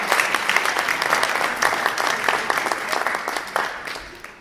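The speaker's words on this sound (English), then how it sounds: "Let's give another round of applause for Mrs. Riggins." Steady applause from a school audience, dense clapping that holds for several seconds before easing slightly at the end.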